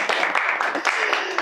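Audience applause for a banking executive speaking on life after university, a dense wash of many hands clapping steadily and fairly loud throughout this short moment.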